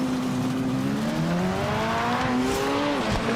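Race car in a racing video game skidding and wrecking, its engine tone wavering and sliding downward while tires squeal through the continuous loud scrape, with no talk over it.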